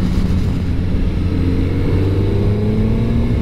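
A Suzuki GSX-S 1000 GX motorcycle engine pulls steadily under acceleration on a road, a continuous close drone with rising tones and wind noise.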